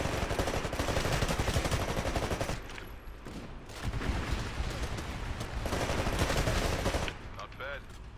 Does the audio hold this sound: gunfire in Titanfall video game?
yes